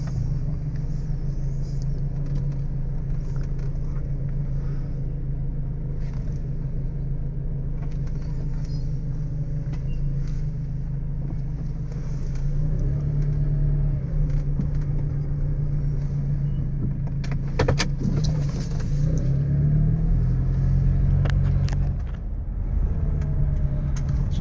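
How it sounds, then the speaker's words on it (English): Steady low engine rumble of a car driving, with continuous road noise and occasional rattles, no voices. "then you can sort of listen to the noises the car makes"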